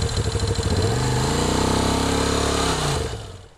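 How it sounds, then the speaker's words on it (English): A Moto Guzzi V-twin motorcycle engine runs close by with a loud, throbbing pulse, revving up and holding before dropping off at the end. "is that V-twin sound that you're not gonna get from anything else"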